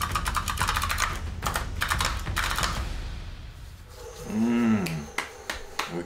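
Typing on a 400% custom computer keyboard: a quick run of crisp, close key clicks and taps clatters for a few seconds, then gives way to a short warbling tone and a few scattered clicks.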